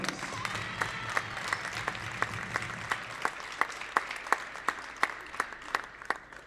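Quiet, sustained applause from a gym crowd honoring seniors and their parents at a girls' high school basketball game, with individual sharp claps standing out in an irregular patter and no talking.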